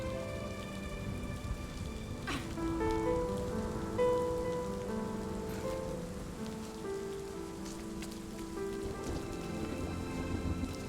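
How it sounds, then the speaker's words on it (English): Rain falls steadily in the video game RiME, a soft continuous patter and hiss laid under gentle tonal music notes, with a faint rumble of thunder and no speech. "I'm really digging the rain though. It looks gorgeous."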